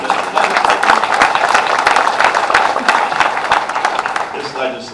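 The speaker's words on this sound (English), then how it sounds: "Give yourselves a big round of applause for helping us with this legislation." An audience gives a round of applause at a manufacturing event, a dense, continuous wash of many hands clapping that swells and then starts to thin out toward the end.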